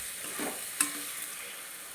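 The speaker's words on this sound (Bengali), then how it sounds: "এবার আমি নাড়াচাড়া করে ঢাকা দিয়ে দেবো, কারণ এতে প্রচুর জল বেরাবে।" Lote fish cooking in a pan with salt, turmeric and Kashmiri chilli, giving a steady sizzle with a brief stirring scrape near the middle, close and fairly quiet.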